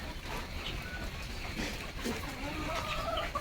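Country chickens clucking outdoors during rain, soft scattered clucks over a constant hiss of falling rain, fairly faint and mid-distance.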